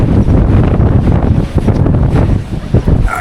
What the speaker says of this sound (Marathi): काय वारा सुटला.